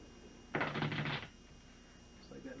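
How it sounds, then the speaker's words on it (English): A deck of playing cards shuffled by hand at a magic trick demonstration, a short burst of dense riffling and flapping for under a second, fairly close, followed by quiet room tone and a faint voice. "I'm going to shuffle them up."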